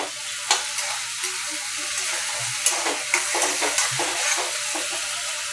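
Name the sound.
paneer bhurji being mixed and cooked in a pan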